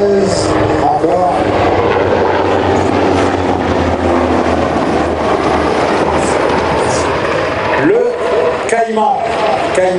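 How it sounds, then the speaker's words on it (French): NH-90 Caïman Marine helicopter of the French Navy flying at the Rennes airshow, loud steady turbine roar and rotor wash, with a public-address announcer talking over it throughout. "NH-90. Un hélicoptère qui est sans doute aujourd'hui dans le monde l'hélicoptère le plus technique qui existe."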